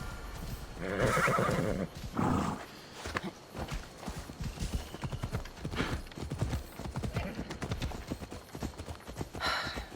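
A ridden horse in Assassin's Creed Odyssey clip-clops along steadily and close, letting out a loud whinny near the start and another shortly after, the hoofbeats carrying on over a continuous outdoor background.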